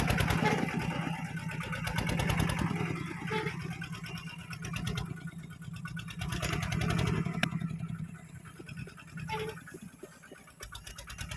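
A modified walking tractor ploughing soft soil for vegetable planting gives a steady, rattling engine putter that runs continuously near the listener, with some wavering in level.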